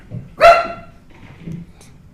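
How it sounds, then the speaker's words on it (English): A dog barks once upstairs, a single sharp, close-sounding bark, followed by quieter low sounds and faint room noise. "No, he has a dog upstairs."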